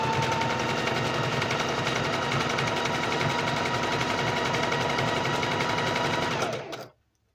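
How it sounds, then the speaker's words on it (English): A sewing machine runs fast and steady in a close, continuous mechanical whir for several seconds, then winds down and stops abruptly. "a lot of people sew slower than what I'm doing"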